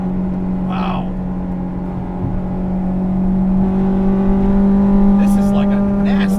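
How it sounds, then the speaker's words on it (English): A 1998 Acura Integra GSR all-motor build runs with a steady engine drone and a strong low tone, rising slightly in intensity toward the end, with a voice briefly heard over it. "This is like a nasty little motor, isn't it?"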